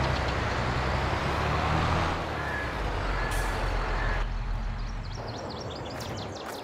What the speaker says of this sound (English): I know the semi-truck needed work.